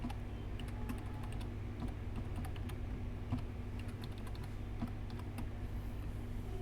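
Computer keyboard keys tapped in short irregular bursts while a password is entered during Windows domain controller setup, quiet clicks over a steady low hum with no voices.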